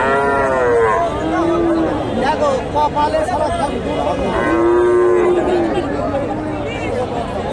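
Friesian heifers at a busy cattle market, several loud drawn-out moos rising over a constant crowd hubbub of people chattering nearby.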